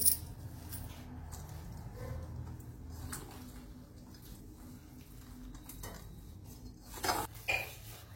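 Sabudana vada mixture is stirred with red chilli powder and salt in a bowl, quiet scraping and soft clinks of a spoon against the dish, close but faint, with a couple of louder knocks near the end.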